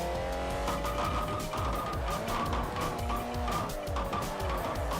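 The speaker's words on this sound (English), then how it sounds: "Once I initiate the handbrake turn, I have to fight it to keep it running." A car sliding through a handbrake turn in the racing video game Forza Motorsport 4, engine droning with tire squeal and skidding layered over it, steady and fairly quiet.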